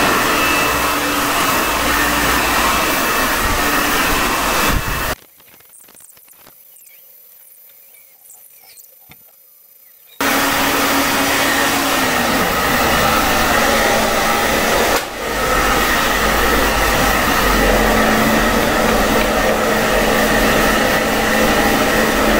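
A hair dryer fitted with a diffuser blowing hair during a haircut, a loud steady whirring blast that cuts off for about five seconds and then resumes at full strength.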